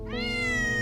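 A stray cat near an apartment recycling area gives a single close, drawn-out meow, loud and clear with no other sound around it.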